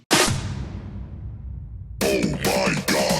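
A booming electronic drop hit from a remix opens with a loud impact that decays over two seconds, then full-band bursts of synths and beat return, loud and alone.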